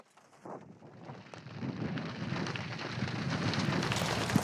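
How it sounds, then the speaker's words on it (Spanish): Heavy storm rain builds from a light patter into a dense, loud roar with gusting wind buffeting the microphone, a continuous downpour that intensifies toward the end. "la lluvia se ha vuelto más fuerte"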